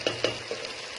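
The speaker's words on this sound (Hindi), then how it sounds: "मैंने वेजिटेबल्स को बहुत ही अच्छी तरीके से सौटे कर लिया" Vegetables sauté in a hot pan for a chicken macaroni dish, giving a continuous close sizzle broken by a few soft stirring scrapes.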